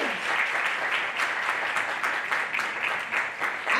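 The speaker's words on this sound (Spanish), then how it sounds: "Un aplauso, por favor" Steady audience applause at an awards presentation in Málaga for a mental health foundation, dense continuous clapping filling the room at close range with no voices over it.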